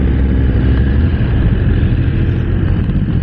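Suzuki GSX-R1000R sport bike engine droning steadily while riding in everyday traffic, a loud continuous rumble with no talk over it.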